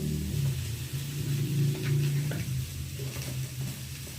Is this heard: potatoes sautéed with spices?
yes